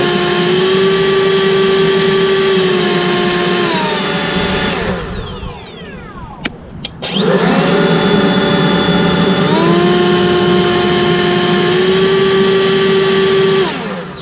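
NASUM 40V cordless leaf blower, 480 CFM and 140 MPH, roars loud and close with a whining fan tone that steps up through its speeds, spins down almost to silence, then revs back up to a high turbo pitch.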